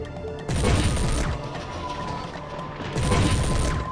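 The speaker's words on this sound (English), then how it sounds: "Fire a few more times at the mech" Heavy weapon fire from a giant combat mech striking another mech in MechWarrior 3, two loud crashing bursts of impacts with a rumbling lull between them and no talk.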